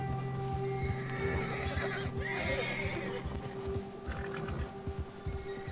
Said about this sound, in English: O urso assustou seu cavalo.